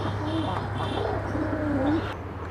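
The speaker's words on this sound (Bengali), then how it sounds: "এখানে আছে এক জোড়া পাপোস পায়রা" A pair of Papos pigeons, a black male and a white female, give soft low coos close by at a quiet level under a faint hum, with a voice speaking briefly.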